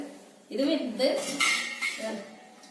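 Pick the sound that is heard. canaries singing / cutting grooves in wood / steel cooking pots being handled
steel cooking pots being handled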